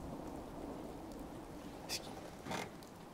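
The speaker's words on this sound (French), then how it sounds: "Comme ça la pluie va se calmer." Rain falls steadily in Fallout 4 as a constant dense hiss, with two brief cracks of thunder near the end standing out over the downpour.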